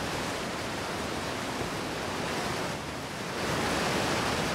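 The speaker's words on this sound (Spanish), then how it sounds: "¿Por qué suena tanto el agua?" Water rushes continuously in the Outer Wilds game world, a broad steady roar like heavy surf or a waterfall, loud and unbroken with a slight swell near the end.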